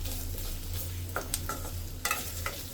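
Onion and capsicum fry in a pan for an onion capsicum gravy, giving a steady low sizzle with a few light clinks and scrapes of a spoon stirring near the end; no voices.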